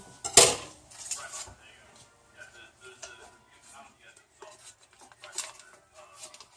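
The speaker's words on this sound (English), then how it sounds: "So I get 6 teaspoons of butter in the pan" Metal spoon clinking against a pan as butter goes in while making garlic knots, one sharp clank followed by lighter scattered scrapes and taps, fairly close and quiet.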